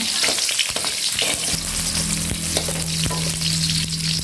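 Onion sizzles and fries steadily in a hot wok, a loud continuous crackling hiss with occasional stirring clicks and a low hum joining partway through, no voices over it.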